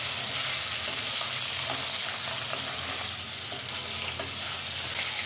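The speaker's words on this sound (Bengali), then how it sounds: "এখন আমি মাছটা ফ্রাই করে দেবো।" Steady, loud sizzling of fish frying in hot oil, a dense continuous crackle and hiss with no voices.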